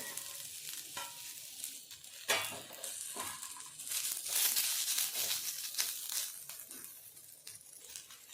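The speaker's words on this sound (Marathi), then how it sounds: "आता इथे मी दोन बारीक कट केलेले कांदे ते भाजून घेते" Two finely chopped onions roast in a pan for a shevga (drumstick) masala curry, giving a continuous close sizzle with scraping, rustling stirring strokes throughout and no voices.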